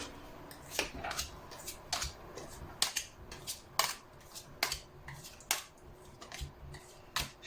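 A deck of tarot cards being cut and shuffled, a close sequence of about a dozen sharp papery snaps and slaps at uneven intervals over faint background hiss.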